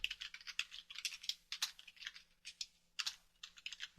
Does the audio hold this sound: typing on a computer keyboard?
yes